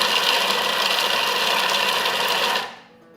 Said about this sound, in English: And now this blends.